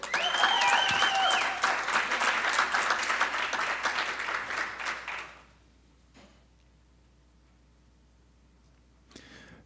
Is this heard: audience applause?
yes